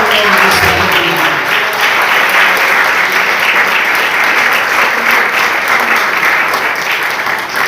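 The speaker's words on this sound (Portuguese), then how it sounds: "Se você crê nessa palavra, aplaude bem forte o nome do Senhor." A church congregation claps loudly and steadily in unison, a dense, sustained wave of applause filling the room with no break.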